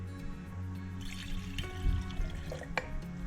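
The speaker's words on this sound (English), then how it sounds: "what we're going to have to do then is pour some water" Water pours back into a Disney 101 Dalmatians snow globe during repair, light trickling and splashing with a few sharp clinks and drips over a low background hum.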